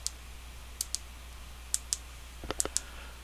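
Buttons clicked on a loud Fire TV remote, a series of sharp plastic clicks, some in quick pairs and a faster cluster near the end, close and crisp in a quiet room.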